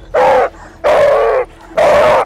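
An aggressive dog lets out three loud, drawn-out barks close to the microphone, evenly spaced with short quiet gaps between them.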